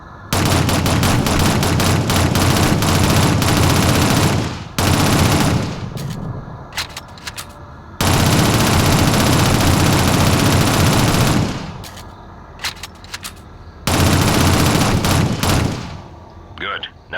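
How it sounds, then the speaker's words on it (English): Submachine gun fire in Shadowrun, the 2007 game, comes in three long, loud sustained bursts of rapid automatic shots, separated by short gaps with scattered single shots and clatter. "Use your SMG to clear it now."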